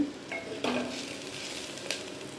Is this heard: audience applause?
no